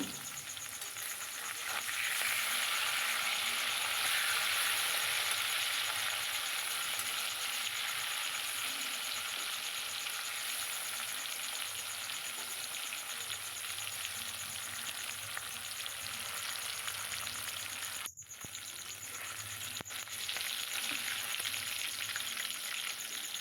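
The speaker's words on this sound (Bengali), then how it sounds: "খুব বেশি কড়া ভাজবো না আমি হালকা করে ভেজে নেব" Hilsa fish shallow-frying lightly in hot oil, a loud, dense and continuous sizzle that holds steady for over twenty seconds, with one brief dip and no voices.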